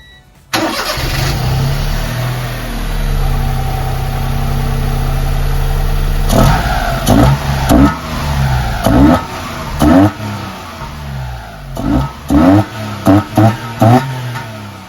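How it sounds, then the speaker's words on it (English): A warm Honda Beat engine with throttle bodies and an open airbox cranks and catches, settles into a deep steady idle, then revs sharply several times in quick bursts, loud and close. "we can do a startup. The engine's warm already, with an open airbox"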